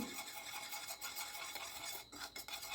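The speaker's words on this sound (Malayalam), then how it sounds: "ഞാനിവിടെ രണ്ട് ടേബിൾ സ്പൂൺ പഞ്ചസാര നന്നായിട്ട് തന്നെ മെൽറ്റ് ചെയ്തൊന്ന് കാരമൽസ് ചെയ്തെടുക്കുന്നുണ്ട്" Two tablespoons of sugar melting and caramelizing in a pan, a steady close sizzling hiss with faint scraping and stirring throughout, no voices.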